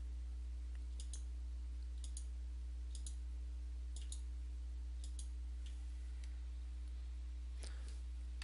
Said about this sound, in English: holding down the Control key on your keyboard and clicking on each person you want in the new